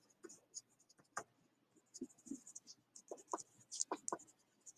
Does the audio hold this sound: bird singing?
no